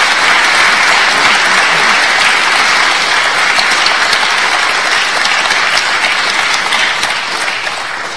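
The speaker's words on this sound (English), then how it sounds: "Let's everybody give Edward Fudge a round of applause." A live audience gives a round of applause for Edward Fudge after an interview, dense, loud, continuous clapping that holds steady for several seconds before tapering slightly.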